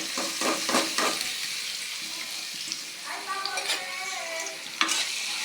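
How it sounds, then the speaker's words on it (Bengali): Chopped onions and green chilies fry in oil in a wok, a loud close sizzle with quick clattering stirs at first, then bubbling crackle and a sharp scrape of the spatula near the end. "পেঁয়াজ কাঁচামরিচটা আমি ভালো করে ভেজে নেব।"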